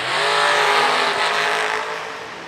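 Drag race car, a former pro stock car, launching at full throttle: a loud, dense, close roar of the engine held flat out for a couple of seconds, easing slightly at the end.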